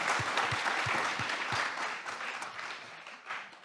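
Audience applause at an entrepreneurship event, steady dense clapping from a seated crowd that holds for several seconds and gradually thins toward the end.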